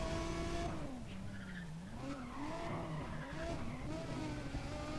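Tires squeal and skid under hard braking and handbrake in Need for Speed ProStreet, a wavering screech riding over a loud, continuous race-car engine drone.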